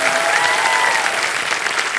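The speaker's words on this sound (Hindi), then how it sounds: "एक बार आशा जी के लिए जोरदार तालियां बजाएं" Studio audience on a television quiz show applauds loudly for a guest, a dense, steady burst of clapping filling the room throughout.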